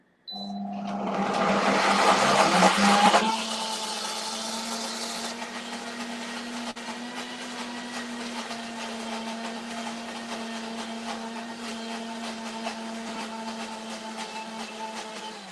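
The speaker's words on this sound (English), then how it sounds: "And then we're going to turn the blender on" An Optimum G2.6 blender blending corn fritter batter, a loud steady motor whir with a harsh churning surge over the first few seconds, then settling into an even hum for the rest.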